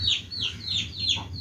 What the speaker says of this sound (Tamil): கோழி குஞ்சுகள் வந்திருக்கிறாங்க